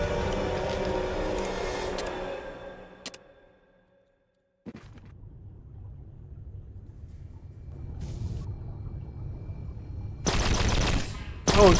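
Bursts of rapid automated turret fire in Fallout Tactics, a loud volley at the start, a sudden cut to near silence, then a rising rumble and another sharp volley near the end.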